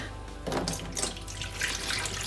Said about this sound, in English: So I'm just going to pour the rice water, most of it.